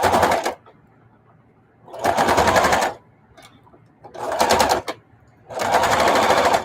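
Sewing machine stitching through scraps of old denim jeans, four loud bursts of rapid mechanical whirring and clatter, each lasting about a second, separated by quiet pauses.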